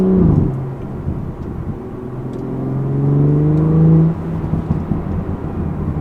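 A BMW 340i with an M Performance exhaust rumbles steadily from inside the cabin, its engine note rising into a smooth whir before easing off, with no clear crackles standing out.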